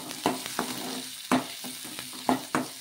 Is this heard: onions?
yes